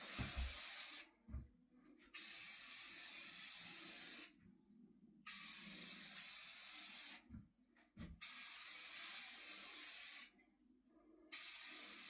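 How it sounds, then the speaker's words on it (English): Rust-oleum 2-in-1 paint and primer sprayed from an aerosol can in several long, steady hissing bursts with short pauses between them, close and fairly loud, with no talking. "now I'm ready to spray paint. I'm using Rust-oleum 2-in-1."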